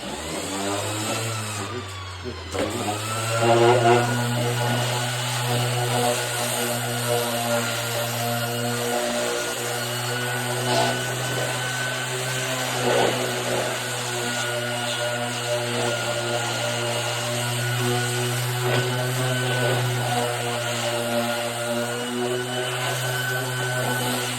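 A power sander whines steadily against plastic, a continuous motor hum with a brief dip near the start, close and fairly loud.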